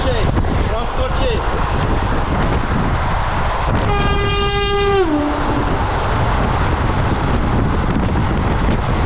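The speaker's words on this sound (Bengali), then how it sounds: "হাওড়া NGP বন্দে ভারত ঢুকছে, ক্রস করছে।" The Howrah–NJP Vande Bharat Express sounds a loud, sustained horn blast of about a second as it passes close, over continuous heavy rail rumble and wind buffeting.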